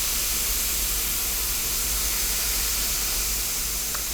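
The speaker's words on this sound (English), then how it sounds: "Look at that sizzling" A steady, loud fizzing hiss continues without a break, like foam bubbling hard, as baking soda snowballs fizz in vinegar.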